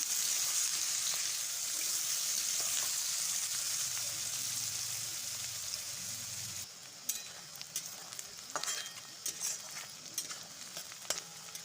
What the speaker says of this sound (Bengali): লঙ্কা পেঁয়াজ আর গাজর এখন এবার ভেজে নিচ্ছি